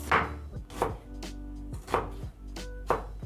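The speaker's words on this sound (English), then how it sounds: "So you'll slice your onion to medium sizes." A knife slices an onion into medium pieces for samosa filling on a cutting board, four crisp, evenly spaced chops with short quiet gaps between them, close and clean with no talk.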